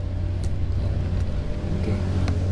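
A vehicle engine hums in a steady low rumble nearby, a continuous drone with a few faint brief ticks over it and no talking.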